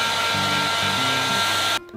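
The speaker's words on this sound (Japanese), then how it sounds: "ここをこうドライヤーで" Hair dryer blowing steadily on a dbrand skin sticker applied to an Apple device, a loud close whooshing hum with a faint fluctuating tone, cutting off just before the end.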